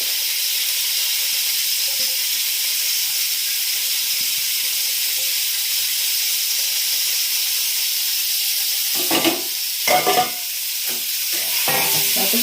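Food fries in a pan while lemon rice is being prepared. A steady broadband hiss of sizzling oil holds throughout, and a few louder crackling bursts near the end suggest stirring. No voices are heard.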